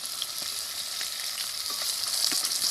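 Koi fish pieces fry in hot oil for tel koi, a dense, continuous close sizzle with a few sharp pops and spits, and no voices.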